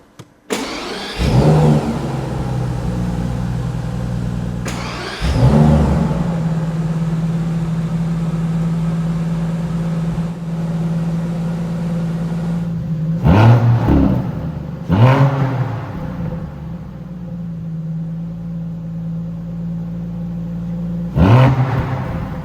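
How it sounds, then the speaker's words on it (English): A 2027 Brabus Bodo Cabrio, a Maybach-based limited-edition convertible, fires up and settles into a steady idle, then gives several sharp revs in separate bursts, loud and close with no talk. "I will start the engine"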